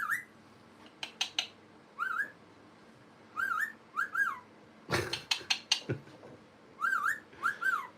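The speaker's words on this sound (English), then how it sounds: "Anything other than a wolf whistle?" A bird whistles a series of rising-and-falling wolf-whistle calls, repeated in short bursts with brief pauses, close and clear, with a sharp clatter midway.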